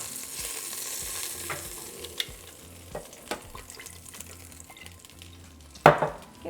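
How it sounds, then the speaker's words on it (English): Meat searing in hot oil in a pot for pot roast gives a steady close sizzle, with stirring and scraping knocks throughout and a sharp, louder clatter near the end. "we continue to sear the rest of our meat"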